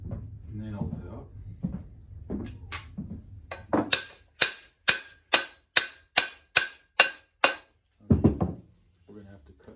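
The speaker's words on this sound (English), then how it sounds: "So, okay, you're going to take these nails out." Nails are worked out of an old antique axe or mattock handle, giving about ten sharp, evenly spaced clicking taps in a quick steady rhythm, with talking before and after.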